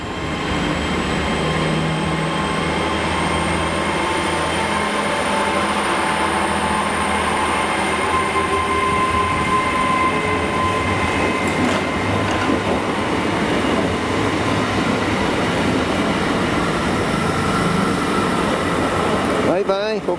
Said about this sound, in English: London Paddington train from Bridgend, now gonna head down the Vale line.